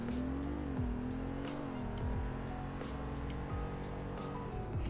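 A car's engine and road noise hum steadily from inside the cabin during a 30 mph automatic emergency braking test, with the drone's pitch dipping a few times.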